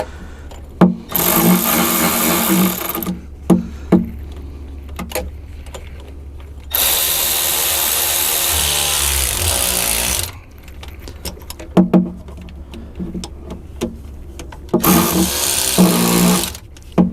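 A power tool driving screws into a Bobcat control valve during a reseal, three long whirring bursts a few seconds each, loud and close, separated by quieter clicks and handling noise.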